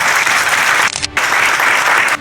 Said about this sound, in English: So give you a round of applause before we start.